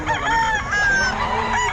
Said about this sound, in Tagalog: Ayan oh, marami din manok